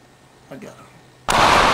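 After a brief murmur of voice, a sudden loud blast of a sniper rifle shot cuts in near the end and stays loud to the close.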